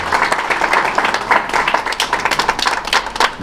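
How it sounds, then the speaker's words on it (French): Congregation clapping together during a church thanksgiving service in Paris, a dense, steady patter of many hands with no voices over it. "Est-ce qu'on peut applaudir pour ça?"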